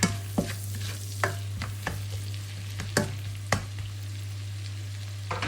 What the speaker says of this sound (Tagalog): Ayan, natutunaw yung ating butter.